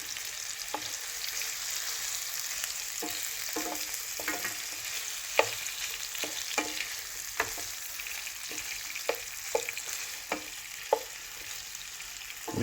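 Chicken sizzles in butter in a pan for a homemade extra-hot madras curry: a quiet, steady frying hiss broken by occasional sharp clicks and taps of stirring, with no talk.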